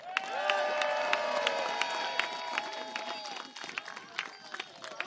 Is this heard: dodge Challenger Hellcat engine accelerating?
no